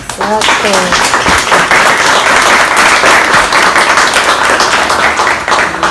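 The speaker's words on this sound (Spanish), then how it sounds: "Primero un aplauso para todas" An audience at an ethics course session claps loudly and steadily for the full stretch, a dense wash of hands with a few voices mixed in at the start.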